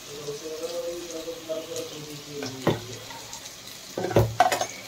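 Ginger garlic paste frying in a pan, giving a steady close sizzle with a few sharp scrapes and taps as it is stirred, busier toward the end.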